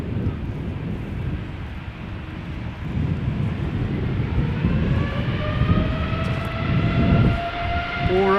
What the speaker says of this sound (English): Alrighty, Air Canada on its way to Toronto. Flight 809.